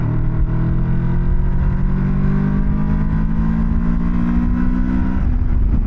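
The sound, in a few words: adventure motorcycle accelerating in third gear from 40 to 70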